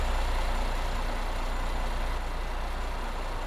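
A Neoplan Starliner coach in Euro Truck Simulator 2 idles with a low, steady diesel rumble, a constant even drone with no voices.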